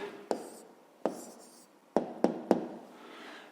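Pen or pencil writing down the answer to a fifth-grade math exercise, heard as a few short, separate scratching strokes with pauses between them, close and fairly quiet, with no talking.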